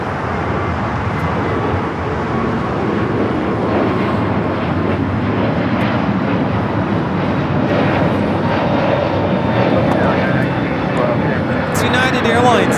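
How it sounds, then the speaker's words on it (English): United Airlines Airbus A321neo jet taking off from LAX on its way to Denver, a loud broadband engine roar that swells steadily across the whole stretch, with a person talking over it. "It's United Airlines 1912 taking off to Denver on the A321neo."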